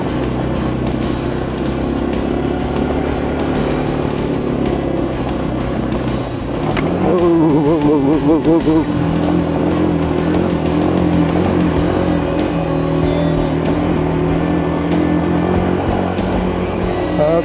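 A car engine labours loudly and steadily in first gear while climbing a very steep mountain road, with a continuous low drone throughout.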